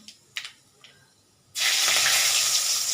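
Black mustard seeds and torn bay leaf drop into hot oil and erupt into a loud, steady sizzle right after a few faint clinks.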